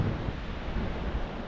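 Strong wind buffets the microphone on an open beach at Cambois, Northumberland, a loud continuous roar with surf churning underneath and no voices.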